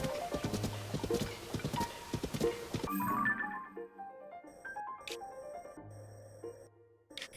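Horse hooves clip-clop in a steady rhythmic trot in the video game The Legend of Zelda: Tears of the Kingdom for about three seconds, then stop as soft chiming game tones take over.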